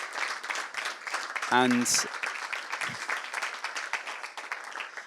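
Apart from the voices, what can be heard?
applause for the contestants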